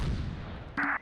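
Mortar fire in the Close Combat World War II strategy game: a low rumbling blast fades out, followed by a short, sharp burst near the end of the one-second clip.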